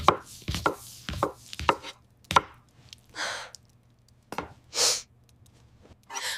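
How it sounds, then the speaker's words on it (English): Sharp knife chops strike a board in uneven bursts as onions are chopped, close and clear, with soft breathy scraping sounds between strokes. "I'm chopping the onions."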